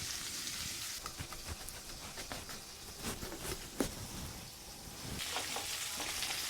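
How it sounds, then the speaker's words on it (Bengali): Small hilsa fish frying in mustard oil, a steady close sizzle broken by uneven popping crackles and a sharp spatter near the middle, with no talking. "ছোট ছোট মাছ তো একদম সরিষার তেল দিয়ে ইলিশ ভাজি হচ্ছে"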